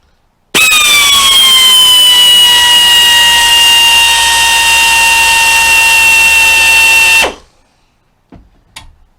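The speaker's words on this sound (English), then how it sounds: "I'm using an air drill, so, and it's kind of noisy." A loud, steady high-pitched whine of an air drill drilling metal, running continuously for several seconds, then cutting off, followed by faint clicks.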